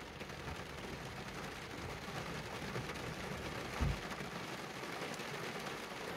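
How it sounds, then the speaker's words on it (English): Steady rain falls outdoors on a wet day at a beekeeping site, a soft, even hiss with one brief thump partway through; no one speaks. "And it's raining."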